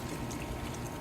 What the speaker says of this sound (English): here's my handy watering can, and I'm going to put some water in it